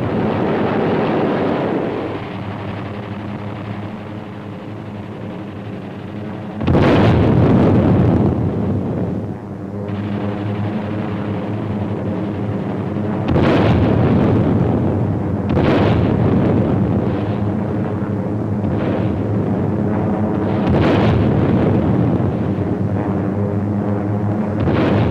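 Bombs exploding during a 1943 B-25 air attack on ships and harbor facilities, a constant roaring rumble with several loud, sudden blasts breaking through.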